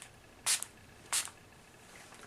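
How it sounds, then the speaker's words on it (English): Setting spray misted onto a face from a pump bottle: two short, crisp hissing bursts about half a second apart, close and clear against a quiet room with no talking. "you can just spray your face with a setting spray"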